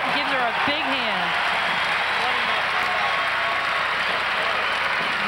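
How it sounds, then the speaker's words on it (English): Crowd at a 1994 Georgetown vs UConn women's basketball game applauds an injured freshman, a steady broad wash of clapping filling the arena throughout, with a voice speaking briefly near the start. "the crowd recognizes that and gives her a big hand"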